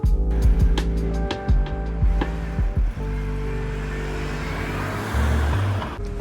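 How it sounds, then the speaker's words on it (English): A BMW E46 M3 convertible drives slowly through narrow cobbled mews in Kensington, London, with a low engine drone, several bumps and knocks early on, then a steadier rumble with road and wind noise. "we're in an E46 M3 convertible and we're driving through some lovely little mews in Kensington"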